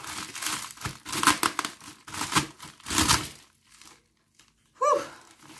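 Packaging being torn and crinkled open to get at pill organizers, several loud bursts of rustling and tearing close by, then a pause and one last short crinkle.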